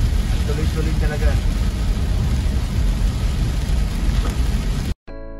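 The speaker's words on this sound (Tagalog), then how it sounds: "Grabe ang ulan. Walang humpay." Heavy rain pours nonstop, making a dense, loud, steady hiss that lasts throughout and cuts off abruptly near the end, with possible vehicle noise mixed in.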